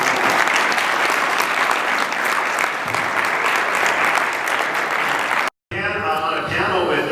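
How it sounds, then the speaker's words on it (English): An audience at a water coalition panel event breaks into sustained applause for the panelists, a dense loud clapping that runs for several seconds before cutting off; a voice then speaks afterward. "How about a round of applause for our panelists?"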